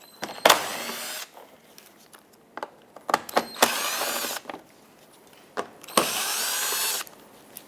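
A power tool drives out 8mm-headed screws along the perimeter of a 2014-2021 Mazda 6 front bumper cover, in three loud whirring bursts of about a second each, separated by quieter clicks and handling noises.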